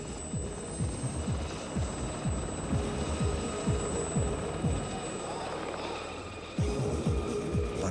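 A military helicopter operating from a small destroyer's flight deck: steady close rotor thumping with a dense, continuous engine roar that grows louder near the end.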